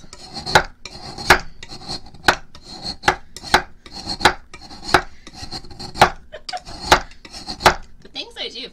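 Ice being shaved with a regular kitchen knife for an ice-cream soda: about a dozen sharp scraping strokes in a steady rhythm, close and fairly loud, with no talking.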